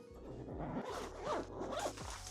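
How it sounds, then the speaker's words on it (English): A backpack zipper pulled closed in several short, rasping strokes, close and clear, with brief pauses between pulls. "I'm going to clip it to the front of my backpack and we can zip this up"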